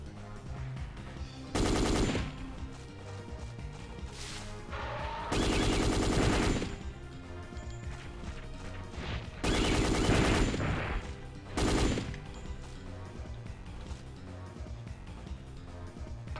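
Gunfire in the video game Dino Crisis, four loud bursts of rapid automatic fire separated by quieter stretches of game ambience and music.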